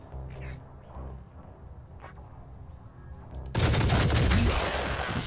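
Burst of weapon fire in the turn-based strategy game Phoenix Point, a dense sustained volley erupting loudly after a quieter stretch of game ambience and continuing to the end.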